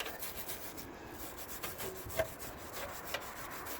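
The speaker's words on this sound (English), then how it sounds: "So I want to clean off the threads here." Bolt threads on the rear control arm of a BMW E60 5 Series are being scrubbed clean, giving a faint, steady rasping rub with a few sharper scrapes along the way.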